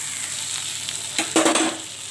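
Panch phoron whole spices hit hot oil, an ongoing sizzle that swells into a brief louder crackle and hiss midway, then settles, close by with no voices.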